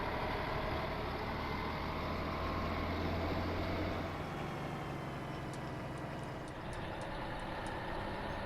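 Mack truck engine in Farming Simulator 17 running loud and steady, its low drone dropping and shifting around midway as it changes gears, with faint brief clicks near the end.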